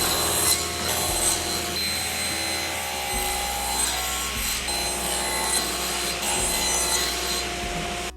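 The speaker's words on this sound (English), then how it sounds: "We set the saw to 30 degrees here, so we're putting a 30-degree bevel on both sides." Power saw set to 30 degrees cutting a bevel along a wooden fence picket for a birdhouse, a loud continuous whine and rasp of the blade through wood, close and steady.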